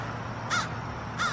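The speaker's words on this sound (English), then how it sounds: "what do the crow say? Caw, caw, caw" A crow caws twice, each a short harsh call separated by about half a second, clear and fairly close over a low steady background hum.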